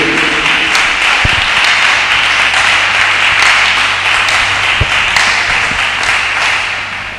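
A church congregation applauding during an evening worship service, a steady dense wash of clapping that holds loud for several seconds and then begins to fade, with no voices over it.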